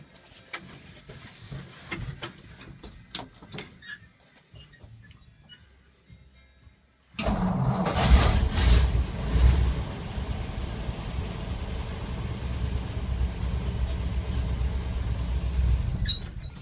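A 1954 Ford F100 with its 239 Y-block V8 cranks and fires abruptly after a quiet stretch of faint clicks, then settles into a loud, steady, rough idle heard up close.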